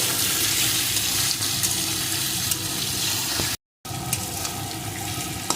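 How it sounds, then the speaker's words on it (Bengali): Warm water poured into taro curry frying in a pan, a steady, loud rushing hiss that fills the pan with bubbling sizzle and drops out for a moment partway through. "এখন এর ভিতরে দিয়ে দেবো আমি পরিমাণ মতো উষ্ণ গরম জল"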